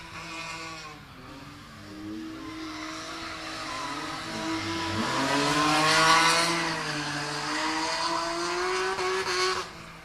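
A Nissan 370Z and a white and silver BMW E46 drifting a course at a drift competition, engines revving and rising and falling in pitch over continuous tire squeal, fairly loud and close.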